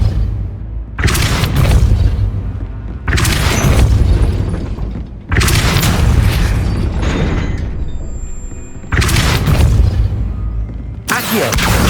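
Depulso spell effects from Hogwarts Legacy fire as loud, heavy booming blasts, about five forceful bursts each lasting a second or two, separated by short quiet gaps.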